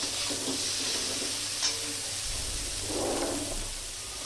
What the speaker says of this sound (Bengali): পনির ভাজার সময় তেলটা আর কড়াইটা খুব গরম করবেন